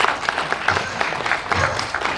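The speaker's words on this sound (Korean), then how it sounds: "박수 한번 주세요." Moderate audience applause at a film screening Q&A, scattered claps in a loose, uneven patter over a couple of seconds.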